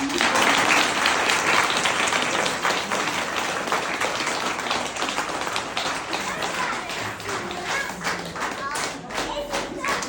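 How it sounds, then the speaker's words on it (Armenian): An audience at an institution's gathering applauds parents and staff with dense, sustained clapping that lasts throughout and eases slightly toward the end. "ծափահարում"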